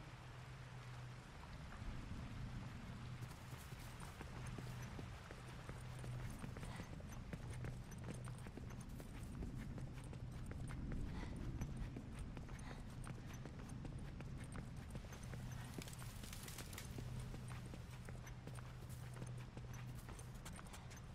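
Faint, rhythmic clip-clop of horse hooves in The Last of Us, plodding steadily for about twenty seconds beneath a soft wash of rain.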